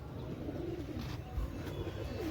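Several pigeons coo continuously near a rooftop loft, low rolling calls over steady outdoor background noise.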